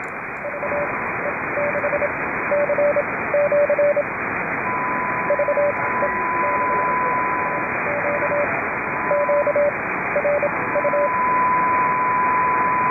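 CW Morse code keyed over an amateur radio net on the 80-metre band, a steady tone sending short bursts of dots and dashes in irregular groups through constant band hiss and static.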